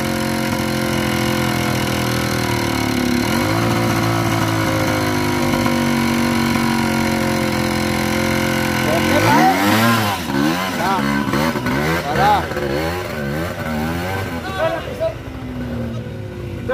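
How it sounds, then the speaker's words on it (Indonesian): Trail motorcycles ride along a horse track. A steady engine drone gives way to several loud, close bikes revving and passing in repeated swells, while riders shout and talk around them. "Halos dito lang mga motor."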